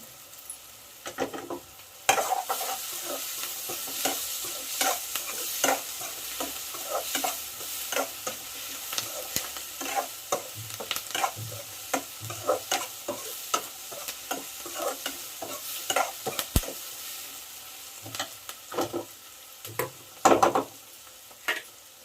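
Onions fry in hot oil in a cooking pan with curry leaves, a steady sizzle under repeated scraping stirs that clatter close up throughout, with no voices.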